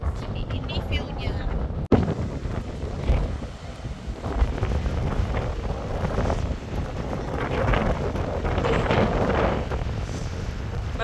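Strong sea wind roars and buffets the microphone over a low rumble of surf at Lakes Entrance, steady and loud throughout, with a faint thump near the start.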